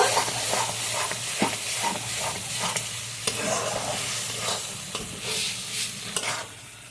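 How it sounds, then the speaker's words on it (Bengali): Colocasia greens with a hilsa fish head are stirred in a hot pan for a traditional Bengali dish, giving a loud, continuous sizzle broken by repeated scraping strokes of the spoon; no talking. "এখন দু পাঁচ মিনিট এটা একটু নাড়িয়ে নেব"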